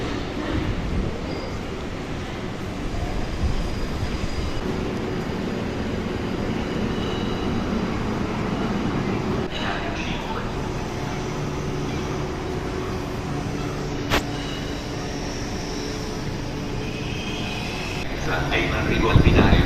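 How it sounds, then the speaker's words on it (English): A busy Italian station serving intercity trains hums with a steady rumble of trains and crowd noise, voices murmuring throughout, with occasional metallic clanks and a brief squeal. "This station has all sorts of intercity trains."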